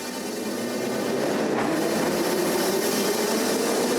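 A Yerevan metro train at Marshal Bagramyan station makes a steady, loud rail rumble with a rising whine as it runs along the platform.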